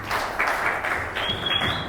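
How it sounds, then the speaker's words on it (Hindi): A church congregation claps for a sister, steady crowd applause filling about two seconds, fairly loud with no clear voices on top. "सिस्टर के लिए भी ताली बजाइए।"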